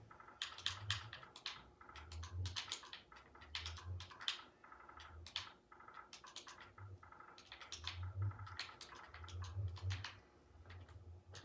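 Rapid, uneven clicking of fingers typing on a computer keyboard, close and fairly quiet, coming in bursts with short pauses and no voices.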